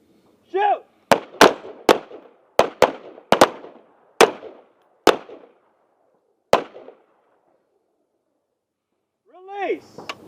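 Sharp handgun shots during a trigger reset drill, about nine single reports at uneven intervals, loud and close, with a voice calling out commands before and after.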